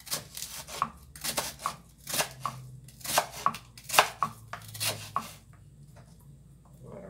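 A knife chops shrimp ceviche ingredients on a board, a series of crisp, close, evenly spaced strokes in short bursts, then stopping and leaving quiet near the end.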